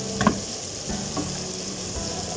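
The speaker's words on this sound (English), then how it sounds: "Chorizo's just starting to fry up a little bit nicely." Chorizo frying in a pan with smoked paprika and cayenne pepper being stirred in, a soft steady sizzle heard close up with a few light scrapes and taps from stirring, no voices.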